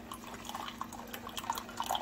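A Keurig coffee maker brews and coffee drips into a cup, a quick run of light drips over a steady low machine hum, fairly quiet and close.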